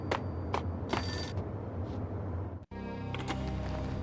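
A payphone rings in the video game Max Payne with repeated bright electronic trills in short bursts. A sharp click and break follows, then a denser tone, all fairly quiet with no talk.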